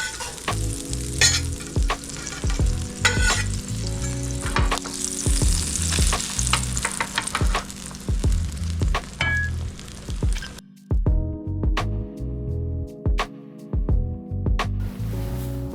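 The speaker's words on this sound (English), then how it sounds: "Put my bread in there, butter side down." Buttered bread fries in a warm pan for a croque monsieur, a loud continuous sizzle broken by scrapes, clatters and handling knocks, briefly dropping out before resuming.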